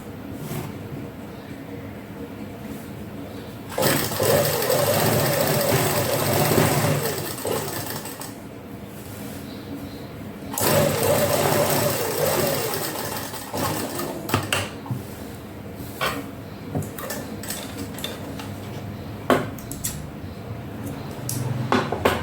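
A sewing machine stitching the hem of a salwar runs in steady mechanical bursts, loud and close, with brief pauses and soft handling noises between runs.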